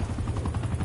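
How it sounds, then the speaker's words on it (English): Enemy attack helicopter overhead during a Call of Duty Cold War multiplayer match, a steady loud rotor thrum with rhythmic chopping pulses, heard alone in a brief burst. "Enemy attack helo above."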